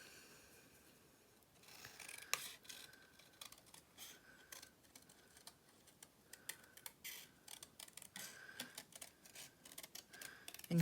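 Scissors cutting paper for a folded greeting card, a series of quiet crisp snips and clicks in irregular rhythm, close by and faint, growing busier toward the end.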